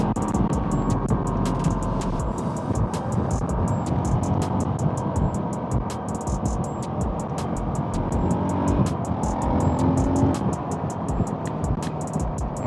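A dirt bike engine drones continuously while riding, with a steady motor rumble and regular clicking ticks throughout, close to the helmet-mounted mic.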